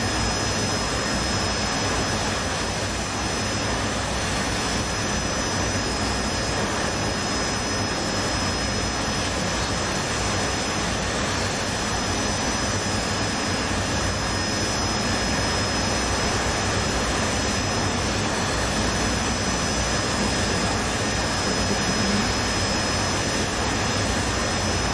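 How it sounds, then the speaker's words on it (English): Harrier jet engine in a flight simulator game, a loud, steady roar with a constant high whine running unbroken throughout. "Harrier is such a good aircraft"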